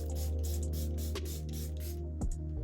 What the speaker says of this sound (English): I'm gonna set my face with this Charlotte Tilbury Airbrush Flawless Finish Setting Spray